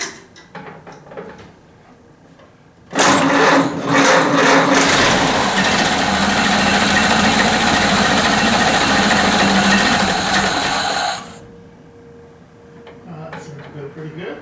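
A Ford Model A engine with a rebuilt distributor fires up and runs close and loud in a steady mechanical clatter for about eight seconds, then cuts off, with quieter handling sounds before and after.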